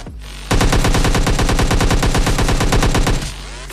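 A sustained burst of rapid automatic gunfire fills this stretch of PUBG Lite gameplay while an enemy is being finished off. The shots are loud and evenly spaced, run for about three seconds and then stop abruptly.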